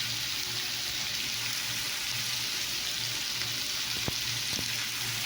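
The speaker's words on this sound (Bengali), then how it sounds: "জিরে দিয়ে দিলাম" Cumin seeds hitting hot oil in a pan, a loud, dense, continuous sizzle with a low hum underneath and a couple of small clinks near the end, close up with no talk.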